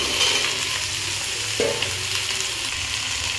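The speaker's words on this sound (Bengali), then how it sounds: "এগুলোকে এখন 5 মিনিট আমি ভালো মতন ভেজে নেব" Shrimp with beans, potato, eggplant and pointed gourd fry in a pan with a steady, close sizzle and occasional stirring, with no one talking.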